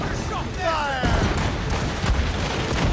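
Naval cannon volley in Assassin's Creed Rogue: a deep boom at about one second is followed by rumbling broadside fire, heard under shouted crew commands and continuous battle noise.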